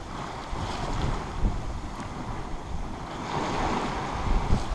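Wind buffets the microphone while waves rush and slosh against a sailboat's hull sailing at over 6 knots in 12 knots of wind between Sardinia and Corsica, a continuous, surging wash.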